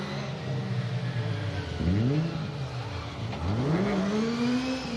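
BMW Compact rally car on a circuit rally stage at Cadwell Park, its engine revving up and down through gear changes with rising and falling pitch sweeps, moderately close, with a commentator talking over it.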